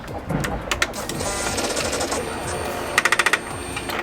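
A rapid burst of about six sharp mechanical clicks, like a woodpecker tapping, from the exhaust valve motor of a K1/K2 Suzuki GSXR motorcycle at ignition-on, rises briefly above a steady engine-bay whir and rattle.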